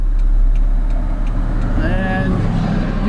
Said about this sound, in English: And you will hear some traffic going by.